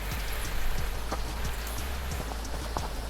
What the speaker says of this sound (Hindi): बाहर काफ़ी बारिश हो रही है